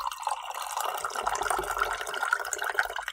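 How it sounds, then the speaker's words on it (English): Tea streams from a gaiwan into a pitcher in a steady, soft liquid trickle lasting about three seconds, fairly quiet and heard alone with no talking. "it is the gaiwan being poured into the pitcher"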